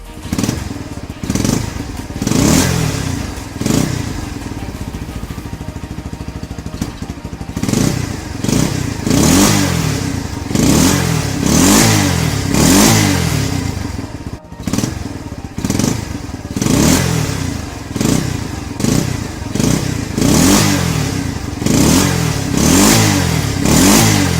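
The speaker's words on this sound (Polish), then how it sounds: "Posłuchajcie jeszcze dźwięku silnika" A motorcycle engine revs repeatedly in loud bursts, rising and falling close by, with a steady rumble between throttle blips.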